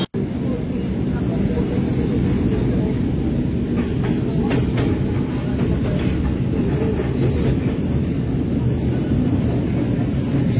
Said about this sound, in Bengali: আমি ট্রেন ধরলাম এসপ্ল্যানেড থেকে কবি সুভাষ মানে নিউ গড়িয়ার দিকে যাওয়ার জন্য।